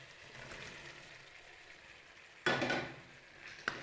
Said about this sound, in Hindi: तो अब मैं इसमें बॉयल किए हुए चने शामिल कर दूँगी।